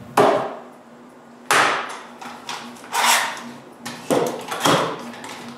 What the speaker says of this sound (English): After spreading a little bit of glue, I clamp it in place.